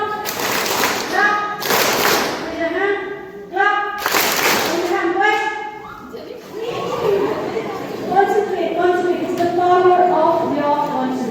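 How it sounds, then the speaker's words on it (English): Two short bursts of group clapping from a youth program audience break through loud, continuous chatter and voices of children and adults talking. "One more. Clap."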